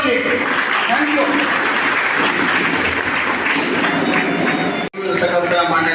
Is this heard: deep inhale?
no